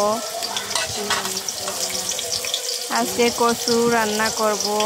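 Garlic, ginger, cinnamon, cardamom and bay leaves sizzle in a hot pan while being stirred, with a continuous frying hiss and scraping stir strokes throughout, some watery bubbling, and a voice speaking over it.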